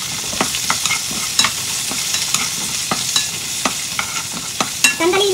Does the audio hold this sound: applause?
no